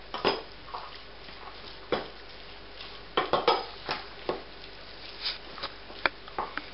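A spoon stirs a mild Caribbean chicken curry in a pot, giving light scraping strokes and soft clinks against the side at an uneven pace, close and fairly quiet, with no talking.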